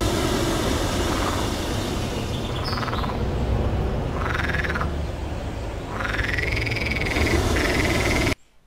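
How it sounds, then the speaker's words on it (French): Dense chorus of croaking frogs rattling continuously, with a few rising bird whistles over it, ending in an abrupt cutoff. "surtout entendu, le son de grenouille"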